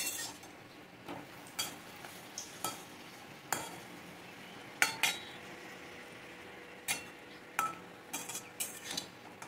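Luchi bread frying in a pan in a home kitchen, a soft steady sizzle under repeated sharp clinks and scrapes of a metal utensil against the pan.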